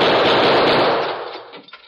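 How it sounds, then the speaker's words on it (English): A gun fired at a chain staple in a 1940s radio drama bursts out as a loud, dense blast of gunfire that fills the opening moment and then fades away over about a second. "I'm going to try some bullets on that staple."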